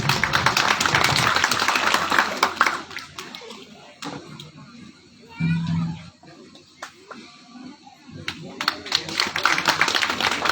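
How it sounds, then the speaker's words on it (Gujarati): A crowd claps hands at a village gathering at the old Chamunda temple in Bakharla, with dense bursts of clapping at the start and end and talking in the quieter middle. "આપણે તાળીઓ ચાલુ રાખશું"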